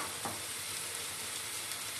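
Capsicum cubes and onion stirred in a frying pan for Patiala chicken, giving a steady, close broadband sizzle with a faint scrape of the spoon, no voices.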